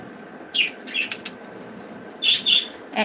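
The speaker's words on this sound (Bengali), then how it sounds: "এটা হচ্ছে মা পাখি ওই যে" A mother pet bird, kept with three chicks and fed vegetables and greens, flaps its wings in several short bursts and gives a few bright chirps, close by, with no talking.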